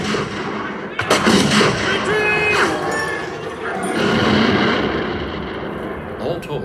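Musket volleys crack out during a battle reenactment at Niagara, with repeated sharp reports and heavy rumbling gunfire over a busy outdoor scene, and shouting voices mixed in.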